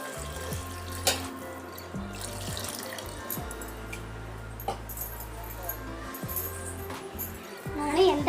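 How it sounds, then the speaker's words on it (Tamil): Dissolved tamarind water is poured into an okra tamarind curry in a home kitchen, giving a soft, steady liquid splash under background music with a few faint clinks. "நான் வந்து நல்லா வதக்கிட்டு இந்த பாருங்கள் கரைச்சி வச்ச புளி ஊற்றுறேன் நான்."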